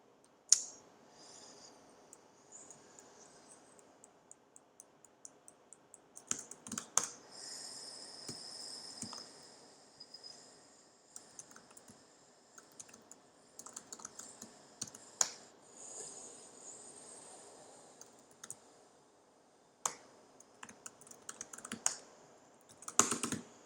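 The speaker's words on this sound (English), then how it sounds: "Ah, the sweet sound of deleting code." Computer keyboard typing during a livestream coding session, with rapid clicking bursts and repeated key presses while lines of code are deleted, fairly close and alone with no talk.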